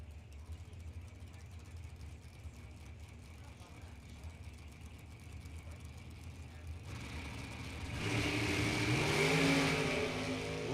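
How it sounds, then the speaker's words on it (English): A next-gen dragster at a bracket drag racing nationals event; engine noise murmurs in the background under an announcer's talk, then a loud roar surges in near the end. "The next-gen dragster."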